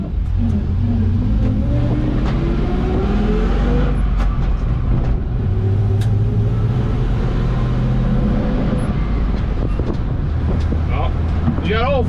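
An LS-swapped square body truck on a test drive, its V8 droning steadily close by with gear-change sweeps as it pulls up through the gears, the engine and road rumble continuing throughout.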